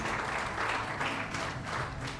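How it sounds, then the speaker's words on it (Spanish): A church congregation applauds steadily at a worship service, a dense, even wash of many clapping hands that holds at full level throughout with no break. "Denle un fuerte aplauso al Señor"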